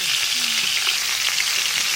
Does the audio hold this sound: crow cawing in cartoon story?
no